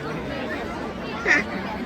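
Brief stretch of steady crowd chatter at the Goda Maha Aarti in Nashik, voices blended into a constant murmur with one short brighter sound rising near the end.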